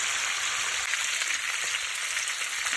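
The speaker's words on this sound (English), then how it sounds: "maybe half an hour just browning up the oxtail, you know, getting it to a nice color" Oxtail browns in hot oil in a pot for Jamaican cooking, a continuous close crackling sizzle that stays even and loud throughout, with a faint stir or two and no talking.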